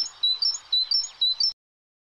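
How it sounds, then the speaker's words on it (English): Birds chirp in quick repeated bursts of high, bright tweets, several short phrases in a row before falling silent. "So here some birds sounds."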